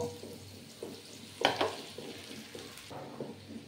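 Washed flattened rice (chira) goes into a pan with ghee for pulao, with soft sizzling and a brief sharp burst as it lands, followed by quiet stirring scrapes.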